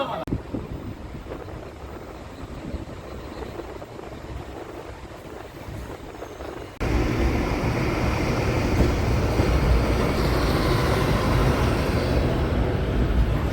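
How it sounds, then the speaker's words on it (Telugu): The Padmavathi Superfast Express, running with new LHB coaches, pulls out of Tenali Junction with a constant low rumble and wind rush. Halfway through, the noise jumps abruptly louder and fuller. "వెళ్ళిపోతుంది కూడా బండి తెనాలి జంక్షన్ రైల్వే స్టేషన్ నుంచి"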